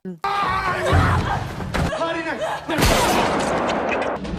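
Indonesian action film soundtrack with sharp gunshot blasts and impacts over music and voices, loud and dense throughout.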